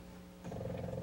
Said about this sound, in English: You can hear the pump going right now.